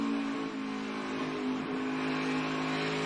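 A NASCAR Xfinity Series race car engine is held on and modulated by the throttle, giving a steady, close, buzzing drone with slight rises and dips in pitch. No voices are heard.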